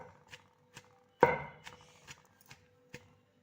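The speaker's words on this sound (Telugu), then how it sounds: "వీటన్నిటిని ఒక్కలొక్కలుగా దంచుకోవాలి" Raw mango chutney ingredients are pounded piece by piece in a stone mortar, giving one heavy thud among several lighter, spaced knocks at an even pace, close up and fairly quiet.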